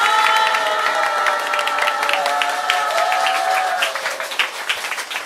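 Audience applause at a ceremonial gathering, loud and sustained for about five seconds, thinning slightly toward the end, with faint tonal sounds underneath.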